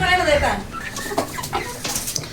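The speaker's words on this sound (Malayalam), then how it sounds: "അപ്പം നല്ല ആക്റ്റീവും കാര്യങ്ങളൊക്കെയാണ് കോഴിക്കുട്ടന്മാർ" Native chickens cluck in a simple coop, with several close, repeated clucks and short calls scattered over a continuous background.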